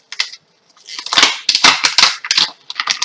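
Felt-tip markers are dropped and pushed into a storage box, giving a rapid clatter of light plastic clicks and rattles, loud and close, after a couple of brief taps and a short pause.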